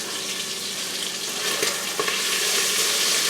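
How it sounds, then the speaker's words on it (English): Bacon sizzles and fries in an Instant Pot while being stirred, a loud steady crackling hiss with a few soft scraping stirs near the close, no talking. "Let's check and stir."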